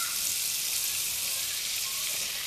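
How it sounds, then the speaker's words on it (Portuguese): Wheat flour hitting melted butter in a pan while making white sauce, giving a steady, close hiss and crackle of sizzling that holds evenly throughout with no voices. "Agora já podemos colocar a nossa farinha de trigo."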